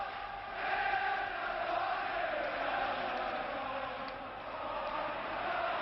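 Huge Wembley Stadium crowd at a 1971 England versus Scotland football match, singing and cheering steadily throughout, a dense, loud, continuous roar with swelling chants and no talk over it.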